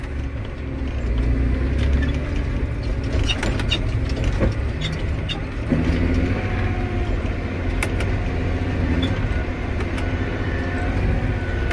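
John Deere 8330 tractor running steadily, its transmission giving a few mechanical clunks and ratcheting clicks as gears change under a constant low engine drone, close and loud with no voices.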